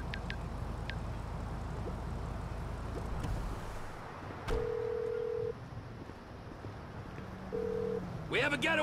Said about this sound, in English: Oh, when phoning Michael.